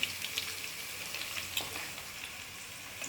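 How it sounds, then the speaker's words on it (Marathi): A bay leaf hits hot oil in a pan during the making of a pea and potato masala rice with washed, roasted rice, giving a soft, steady sizzle with faint crackles. "आता तेजपान टाकून घेते"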